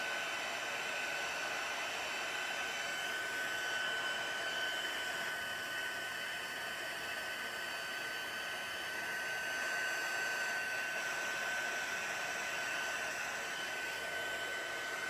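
A heat tool blows hot air across paper to heat-set it, a steady, close whooshing hum that holds at an even level for the whole stretch with no voices.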